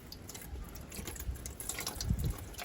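Fish dipped into water to rinse off ice, with soft close sloshing and dripping splashes, quiet, a fuller splash near the end.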